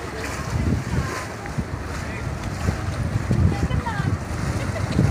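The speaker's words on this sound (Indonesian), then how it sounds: "kapalnya mau bersandar ya." A wooden passenger boat's engine rumbles and water sloshes against the hull amid gusty wind noise, with voices talking nearby as the vessel docks at Simanindo on Lake Toba.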